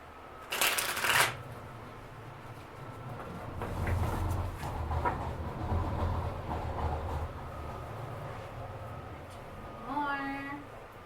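Tarot cards shuffled for a reading, a short crisp riffle burst up close, followed by quieter rustling handling of the deck over a low room hum.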